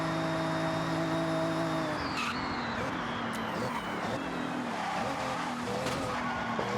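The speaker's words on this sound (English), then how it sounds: "Good brakes there to get us slowed down from 156." A car braking hard from about 156 in Forza Horizon, with a loud engine that drops in pitch as the tires scrub and squeal under heavy deceleration, followed by continued engine drone.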